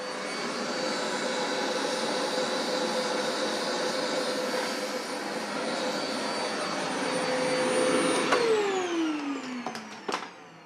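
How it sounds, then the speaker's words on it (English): Vacuum cleaner used to clean the steering wheel contacts on a Mercedes-Benz 560SL R107 drones loudly and steadily nearby, then spins down with a falling whine near the end. "So I'm just going to go ahead and just use my vacuum."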